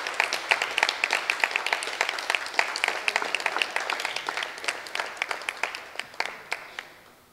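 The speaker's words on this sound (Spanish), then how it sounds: "pido un aplauso para los señores disertantes" A lecture-hall audience at a literary conference panel applauds the speakers with steady, brisk clapping that stays even and close throughout, then begins to taper near the end.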